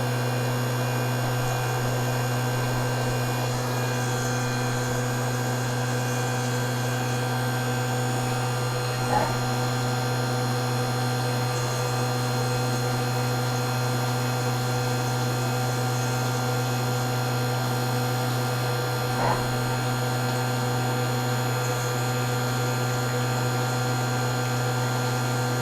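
A machine tool runs a thread milling operation, giving a steady, unbroken hum with a constant whine throughout and a couple of faint clicks. No one speaks.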